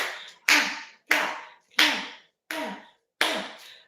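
Six sharp, loud hand claps spaced about half a second to a second apart, each with a short decaying tail, with no voices between them during a home workout.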